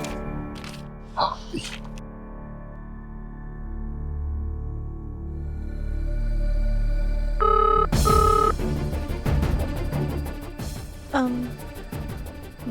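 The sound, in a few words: telephone ringing unanswered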